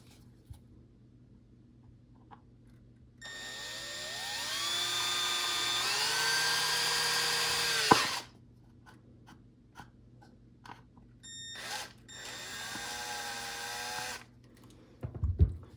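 A high-pitched power drill with a step bit whines steadily for several seconds through a jar lid, rising in pitch, then stops, followed by a couple of shorter bursts of drilling.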